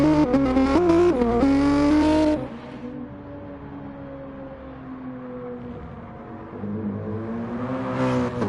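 Gran Turismo-style Gr3 race cars revving loudly on the grid at Lago Maggiore, a dense engine roar that drops abruptly into a lower, steadier pack drone before swelling again, with no talk.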